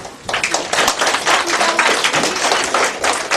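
Dense audience applause fills a hall at a Knowledge Day school ceremony during an award presentation, a steady close wash of many hands clapping that starts abruptly and carries on without voices.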